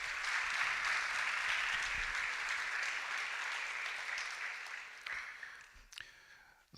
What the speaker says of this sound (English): let's give them a round of applause for the teachers in the room